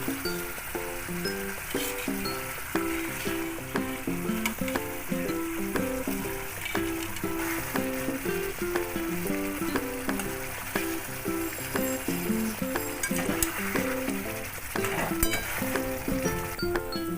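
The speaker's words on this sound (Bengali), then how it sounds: "এটা ফুটছে, এর মধ্যে মাছ ভাজাগুলো দিয়ে দিলাম।" A Katla fish curry bubbling on the stove as fried fish pieces go in, a soft continuous sizzle and simmer with occasional clinks, under a steady tune of background music.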